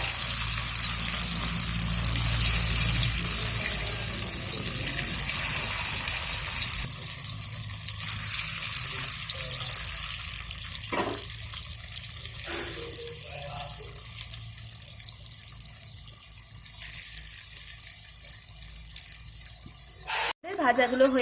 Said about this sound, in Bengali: কড়াইতে আমরা সাদা তেল দিয়ে দিয়েছি তেলটা গরম হয়ে গেছে এবার আমরা এগুলোকে ভেজে নেব